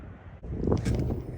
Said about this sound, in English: This wind is so bipolar.